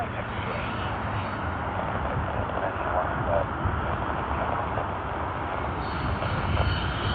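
A Qantas airliner, flight QF8 arriving from Dallas Fort Worth, at Sydney Airport makes a steady, moderately distant jet rumble and whine that continues without a break, with faint talk underneath.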